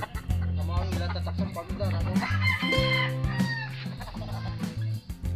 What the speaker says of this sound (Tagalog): ito na pala yung pumpkin natin na broodcock.